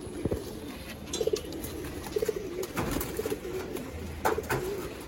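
Pigeons kept at a home loft coo in soft, repeated bursts of low throaty calls, several birds close by, with faint rustles and clatter between the coos.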